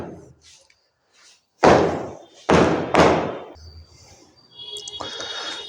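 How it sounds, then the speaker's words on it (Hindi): Firecrackers go off outside in three sharp, loud bangs with short gaps between them, and fainter crackling follows as they fade. "पटाखों की आवाज़ बीच बीच में डिस्टर्ब कर रही थी"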